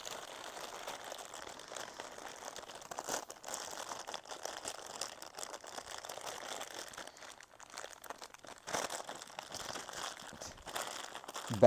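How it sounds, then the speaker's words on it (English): A plastic bag rustles and crinkles continuously up close while a figure's tail accessory is being unpacked, soft and steady, with no speech. "Bag rustling ASMR."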